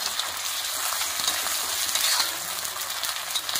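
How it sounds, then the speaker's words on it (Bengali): Ground ginger, garlic and green chili paste fries in hot oil for a country chicken curry with a close, continuous crackling sizzle and soft stirring scrapes, and no talking. "আদা বাটা রসুন বাটা লঙ্কা বাটা একদম দিয়ে দিও।"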